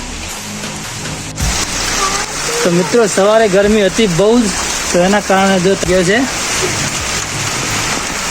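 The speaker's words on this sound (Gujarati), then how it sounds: "વરસાદ પડી રહ્યા છે" Steady heavy rain hisses throughout, a broad wash of noise beneath someone talking in the foreground.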